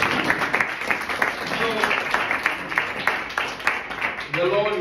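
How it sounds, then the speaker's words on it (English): A church congregation claps in an irregular patter while a voice speaks over it, the applause swelling and fading beneath the talk. "Clap to Jesus then."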